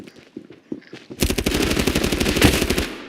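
Video game gunfire in a shooter, a headshot burst: a rapid, loud, close automatic-weapon volley of evenly spaced shots following a few softer thuds.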